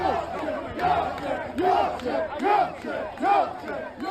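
Rioting crowd in England shouting in loud, surging waves, with repeated rising chants and yells from many voices swelling and fading every second or so, close and dense.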